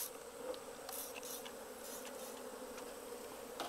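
Japanese honeybees kept in a Western honeybee hive box drone in a dense, steady buzz, with individual bees flaring briefly louder as they pass close.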